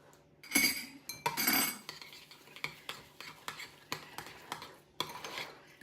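Crab cake ingredients are mixed in a bowl, with a utensil clinking and scraping against the sides in a quick run of repeated strokes, close and fairly quiet, with no talk.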